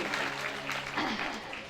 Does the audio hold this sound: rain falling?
no